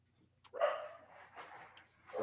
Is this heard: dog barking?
yes